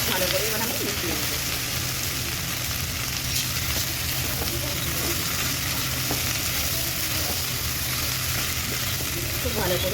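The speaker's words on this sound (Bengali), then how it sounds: "এই আদা বাটাটার সঙ্গে সমস্ত সবজিটা খুব ভালো করে এবার আমি মিশিয়ে নেব" Fried vegetables being mixed with ginger paste in a pan for shukto, a Bengali vegetable dish, hissing and sizzling steadily up close while a utensil scrapes and stirs them now and then, with no one talking.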